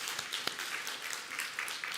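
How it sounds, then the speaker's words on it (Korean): Church congregation applauding a visiting missionary, a dense steady clapping from a room full of people, moderately loud and close, continuing for the whole short stretch. "우리 박수로 감사의 표시하겠습니다"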